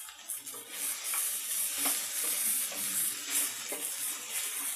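Sago khichdi with peanuts cooks in a pan over medium flame, a steady soft sizzle with occasional scraping and stirring clinks, close and continuous.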